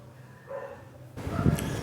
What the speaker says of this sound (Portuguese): tava muito barulho aí dos cachorros